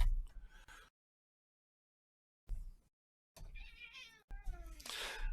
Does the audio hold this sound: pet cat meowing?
yes